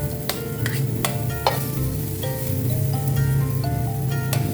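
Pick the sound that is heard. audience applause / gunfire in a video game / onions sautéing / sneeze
onions sautéing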